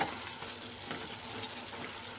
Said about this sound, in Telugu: మటన్ కూడా బాగా వేగిపోయింది